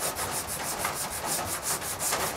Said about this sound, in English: Just let the sandpaper do its thing.